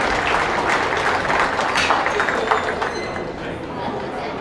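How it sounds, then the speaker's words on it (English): A crowd at a county beef cattle show in the ring applauds the exhibitors, sustained, fairly loud clapping from many hands with some chatter mixed in, tapering slightly toward the end. "Let's give these other exhibitors a round of applause."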